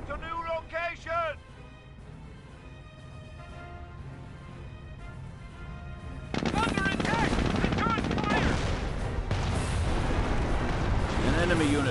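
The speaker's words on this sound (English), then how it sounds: "They're firing at us!" Rapid battlefield gunfire and heavy explosions from the Company of Heroes strategy game, played on an Android Samsung device, erupt loud and dense about halfway through and continue steadily after a few short game voice lines.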